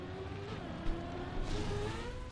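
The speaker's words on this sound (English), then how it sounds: "I'm gonna turn up my car sound so I can hear it." A car engine in a racing video game hums with steady tonal drone that rises and shifts in pitch, with a couple of brief bumps, moderately loud and continuous.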